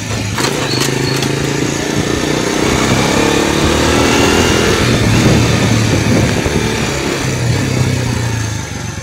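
Truck passing on a road during a rainy-season motorcycle ride, a loud heavy engine rumble swelling and fading under constant motorcycle and wind noise.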